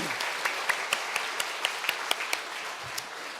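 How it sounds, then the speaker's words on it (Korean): Applause from a church congregation during a Sunday service, a steady patter of many hands clapping with a few sharper claps standing out, moderately distant. "큰 박수로 우리 환영하고 격려하겠습니다"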